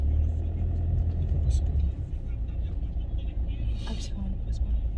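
Low, steady rumble of road traffic in a jam heard from inside a car, continuous engine and road noise under people talking.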